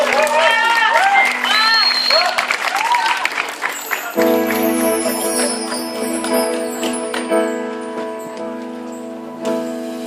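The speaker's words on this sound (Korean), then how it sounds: "박수 많이 주십시오" Applause from a small-church fair audience greets a female singer, mixed with crowd noise and a speaking voice; after about four seconds it gives way to a steady sustained instrumental tone as a song begins.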